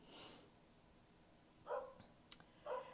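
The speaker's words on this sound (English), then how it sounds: "her dog just barks the whole time that she's gone" A dog left at home barks while its owner is away, giving a few short, sharp barks at a moderate distance over a quiet room.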